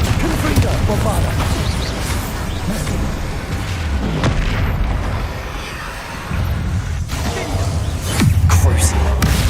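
Bombarda blast spells explode during a troll fight in the video game Hogwarts Legacy: dense, loud, continuous booming and crashing combat effects that keep going without a break.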